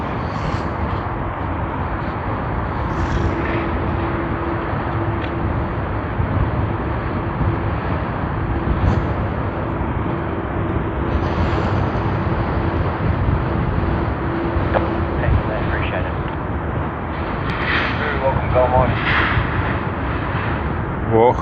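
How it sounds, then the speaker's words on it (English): Fiji Airways airliner FJ911 from Nadi landing on the runway at Sydney Airport, heard as a sustained loud roaring rumble with a low steady tone, growing rougher toward the end, with brief talk over it. "Runway 1. Fiji Airways FJ911 coming in from Nadi."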